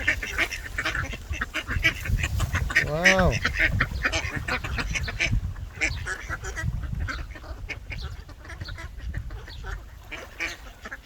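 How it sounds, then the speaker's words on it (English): Ducks quacking repeatedly nearby, with a burst of loud honking calls, while people talk over a noisy outdoor background. "we've got quite a few ducks here now"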